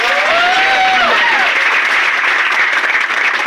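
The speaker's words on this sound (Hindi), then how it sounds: "मुझे पता है कुछ लोग ताली तो मजबूरी में बजा रहे हैं।" An audience breaks into loud, dense applause close by, with a rising whistle-like cry riding over the clapping early on before the steady clatter carries to the end.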